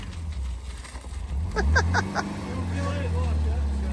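A homebuilt jeep-style vehicle powered by a Volkswagen Beetle engine idles and rumbles steadily as it sets off on its first drive, with voices talking briefly over the engine.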